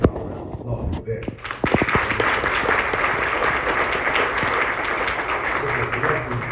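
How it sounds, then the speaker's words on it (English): An audience breaks into applause, a few sharp separate claps first, then a dense, sustained round of clapping that holds steady to the end, with voices faintly audible beneath it. "I want to give you all a round of applause for that."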